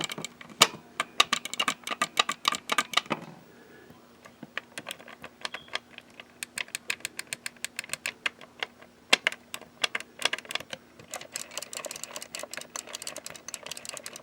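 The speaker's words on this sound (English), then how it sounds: "You can hear the micro switches in it. And they have nice clicky buttons." Clicky micro switch buttons on a gaming controller with a turn knob, pressed in rapid, irregular bursts of sharp, close ticks, with a brief pause near the start.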